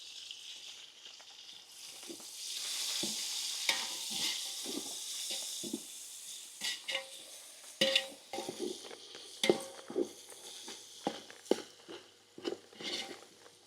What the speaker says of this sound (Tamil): இஞ்சி பூண்டு போட்டு நல்லா வதக்கிட்டேன். தக்காளி பச்சை மிளகா அப்படியே சேர்த்துப்போம்.